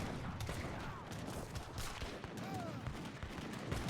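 Heavy cannons fire en masse as a death ball in a strategy game, a dense, continuous barrage of booms and crackling gunfire at steady loudness throughout, with faint voice-like tones underneath.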